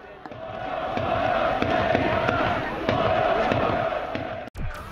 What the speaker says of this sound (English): the crowd had a cheer for each player